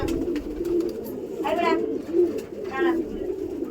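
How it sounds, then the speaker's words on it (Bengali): Pet pigeons cooing close by in two soft throaty bursts, set against a low background murmur. "আপনারা দেখতে পাচ্ছেন যে কত সুন্দর কত ফ্রেশভাবে পায়রা আছে"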